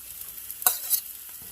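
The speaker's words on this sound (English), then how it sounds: "I'm just going to add my potatoes in here." Potatoes are added to well-cooked cabbage in a pan: a quiet background sizzle, then a sharp clatter and scrape around the midpoint and a second brief rustling burst, with no talking.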